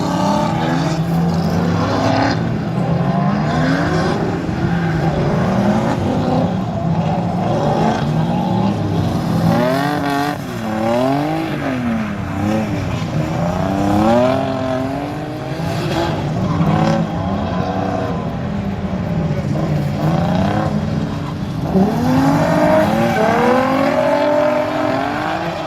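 A Nissan S14 drift car's engine roars continuously, revving up and down with rising and falling pitch as it works around a track at a drift event in Stroud, loud and close throughout.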